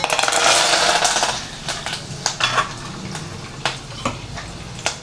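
A burst of hissing sizzle as curry leaves hit hot oil, followed by quieter frying and several sharp metallic clinks of a utensil against a pan.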